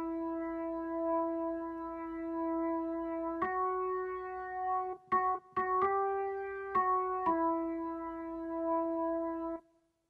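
A keyboard organ sound plays the interlude riff of a song, held sustained tones stepping through a short melodic figure with brief gaps, clean and alone at moderate volume.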